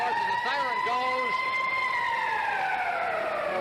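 An ice hockey arena siren ends the period in a 1976 Canada Cup game between Sweden and the USSR, a long wailing tone that slowly falls in pitch while a commentator talks over the crowd.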